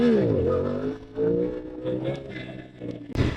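Ducati Diavel V4 motorcycle engine held at light throttle, a steady mid-level drone with gently shifting pitch running throughout, close and continuous, with a brief sharper burst near the end.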